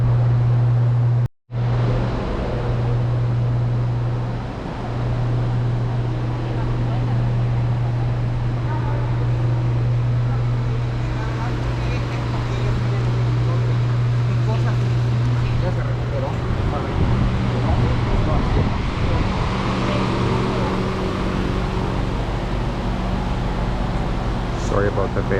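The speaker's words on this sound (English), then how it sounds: "Sorry about the van noise." A parked or passing van's engine drones loudly and steadily outside a plaza in Mexico, a low continuous hum with wind-like broadband noise running throughout, briefly cut out once near the start.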